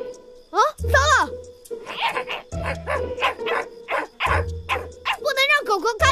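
A cartoon dog barks and yips in short animated bursts, mixed with excited character voices and dramatic sound effects from an animated fantasy action show.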